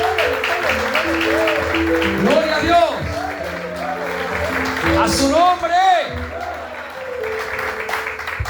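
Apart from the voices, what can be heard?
congregation applauding in church service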